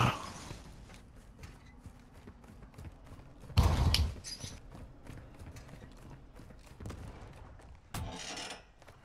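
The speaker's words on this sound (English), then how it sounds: "Oh, you can still crack the doors." Doors creaking and clunking open inside a building in the video game Warzone 2 DMZ, a few loud bursts of mechanical clatter and creak standing out over a low game ambience.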